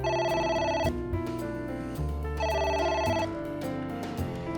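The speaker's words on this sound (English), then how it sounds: "It won't stop ringing." Telephone ringing in the video game AI: The Somnium Files, a steady electronic ring repeating in loud bursts with short gaps, heard alone without talk.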